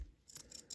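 Pinking scissors with a jagged blade are handled up close, giving a few quiet metallic snips and scrapes in quick succession.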